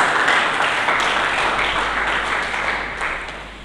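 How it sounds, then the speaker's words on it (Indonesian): A large church congregation at a Sunday service claps loudly and densely, the applause gradually fading over a few seconds. "Coba mari kita berikan tepuk tangan yang meriah bagi Yesus Kristus."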